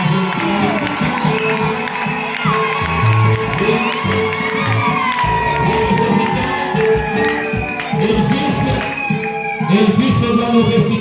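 A crowd of children at an Easter celebration for a Christian children's group cheers loudly and continuously, with excited shouts and whoops rising over the dense, lively din.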